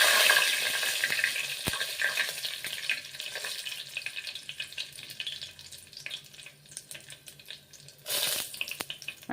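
Dried red chillies and curry leaves sizzle in hot oil for a Gujarati bottle gourd khichdi, a loud steady crackling hiss that fades slightly, with a sharp clink near the start and a burst of renewed spattering near the end.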